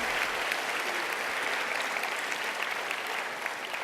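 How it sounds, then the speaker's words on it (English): Graduation ceremony audience for the class of 2016 applauding, with a continuous, even roar of many hands clapping across the whole stretch and no voice on top. "Graduates, please give your parents a round of applause."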